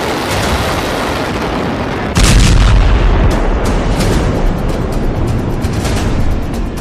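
Bomb blasts from Israeli airstrikes on Beirut, a loud, continuous rumbling roar with a sudden heavier boom about two seconds in, sustained and close without talk.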